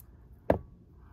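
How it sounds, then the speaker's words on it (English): Scissors on a Sunbird multi-tool make one short, sharp snip, close and isolated, with quiet surroundings before and after. "Next tool, here we have the scissors."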